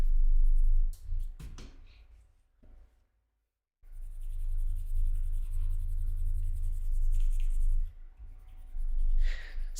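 Pencil marks rubbed off a paper map with an eraser, a close, steady scrubbing that runs in long strokes with a brief pause partway through.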